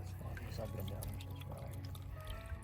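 Water trickles and pours softly into a gold pan while panning for Comstock Lode gold in Gold Hill, Nevada, faint and close with light splashing and a person speaking nearby.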